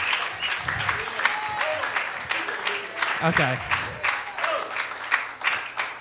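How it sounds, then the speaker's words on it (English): A church congregation claps in praise during a sermon at WPHC in Wilson, NC, with lively irregular clapping running throughout, and a voice speaking and exclaiming over it. "give God a clap of praise"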